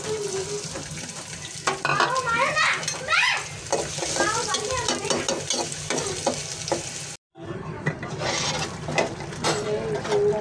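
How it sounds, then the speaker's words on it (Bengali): Long beans frying in a pan, a steady close sizzle with stirring scrapes throughout, broken by a brief gap near the end, while someone talks over the cooking. "বরবটি ভাজি করছি"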